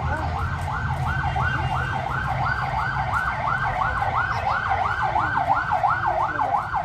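A police siren wails in fast, regular sweeping cycles as the vehicle passes nearby, loud and continuous over a low rumble of traffic.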